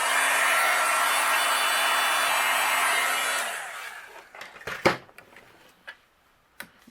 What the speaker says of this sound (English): then we'll use our heat gun and melt them